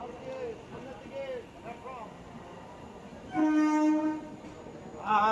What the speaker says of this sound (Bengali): ব্র্যান্ড নিউ LHB কোচ নিয়ে ঢুকলো হচ্ছে শিয়ালদা স্টেশনে 11 নম্বর প্ল্যাটফর্মে।